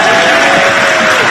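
Audience at a national address event in Pakistan breaking into dense applause and cheering, a loud continuous wash of clapping and voices across the whole short moment.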